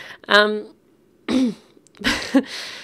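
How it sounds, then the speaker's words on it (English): A person clears their throat a few times in short, rough bursts, close and moderately loud, with brief pauses between. "Excuse me, I keep clearing my throat"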